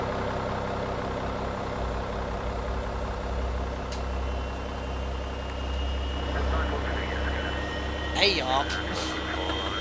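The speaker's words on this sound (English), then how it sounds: "Starting engine number 2." Boeing 737 engine number 2 spooling up in X-Plane 11: a steady low drone and whine with a constant high tone, briefly rising near the end, while someone talks over it.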